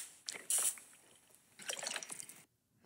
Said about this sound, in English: Drinking out of a water bottle.